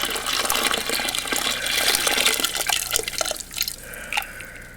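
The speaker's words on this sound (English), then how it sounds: "we're going to dump the water out of them" Water poured and splashed out of empty canning jars after pressure canning pork, a loud close gush and trickle that tapers into scattered drips near the end, no voices.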